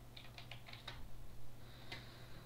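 Keystrokes on a computer keyboard while entering a title in a blog settings page: a quick burst of about five taps, a pause, then one more isolated tap, quiet and close against a steady low hum.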